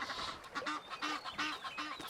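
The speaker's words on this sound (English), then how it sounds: "Egyptian geese are surprisingly territorial." Egyptian geese call in a territorial dispute along a Serengeti river, a run of harsh, close honks repeating in quick bursts with wind-like noise beneath.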